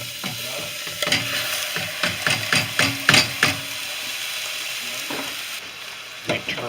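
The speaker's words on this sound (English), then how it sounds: "I'm going to add in my pasta since it's cooled down" Cooled pasta being stirred into a Cajun mac and cheese sauce in a pan: a run of close, wet, sticky scrapes and clacks in a steady rhythm, then a pause and a few final stirs.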